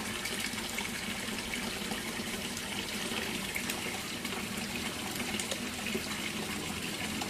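Water in a fish pond rushes and circulates steadily, a constant broadband gush with no breaks and no talking.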